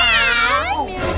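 A girl imitates a cat, giving one drawn-out, bright meow that rises and then falls, loud and close, with a brief shorter sound trailing after it.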